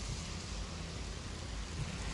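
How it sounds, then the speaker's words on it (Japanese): Rain falls at night outside a hotel on Bali, Indonesia, in the rainy season, a steady broadband hiss with no breaks, close and fairly loud, with no voices. "ツアーからホテルへ帰ると雨でしたが"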